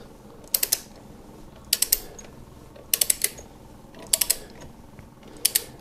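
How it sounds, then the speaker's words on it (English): Ratchet bit driver turned backwards while fitting frame sliders to a 2020–2021 Kawasaki Ninja 1000SX, giving five close, crisp bursts of rapid clicking, each a quick cluster of three or four ticks, evenly spaced with brief quiet gaps between. "The little clicks you hear, of course, going backwards are just the ratchet."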